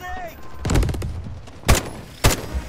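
Gunshots in the shooter game Delta Force: a short volley of quick shots, then two loud, sharp, close single shots spaced about half a second apart, with faint game noise between.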